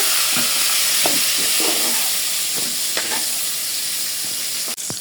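Pointed gourd (potol) fries in hot oil, a loud continuous sizzle and hiss with scattered crackles and a sharp tap near the end, no talking.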